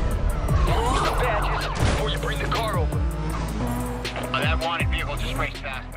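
Police cars chase through Need for Speed Undercover, sirens wailing and sweeping loudly over a roaring engine and skidding tires, with several sirens overlapping throughout.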